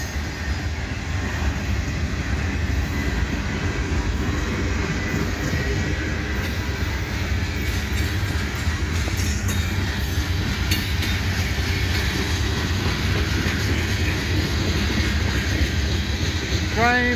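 Freight train cars roll past at a train meet in Abbeville, their close, steady rumble and clatter holding at a constant loudness without a break.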